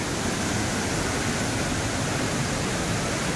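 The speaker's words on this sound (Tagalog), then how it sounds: "yung tubig na bumabagsak galing sa kabundukan" Water crashes down from the mountains in a dangerous torrent during a typhoon, a dense, continuous roaring rush heard up close and alone, without any voices.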